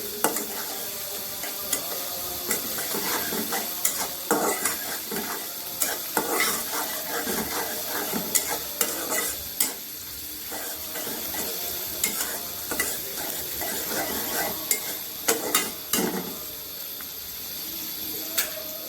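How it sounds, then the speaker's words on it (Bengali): Onion and garlic fry in a pan while being stirred, a steady sizzle with repeated scraping and clinking of the utensil against the metal, fairly close and moderately quiet. "পেঁয়াজ রসুনগুলোকে একটু ভালো করে ভেজে নিবো"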